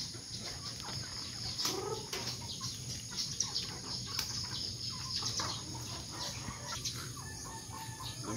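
Chickens cluck and murmur in a yard at a moderate distance, with occasional louder calls over a constant background of outdoor noise.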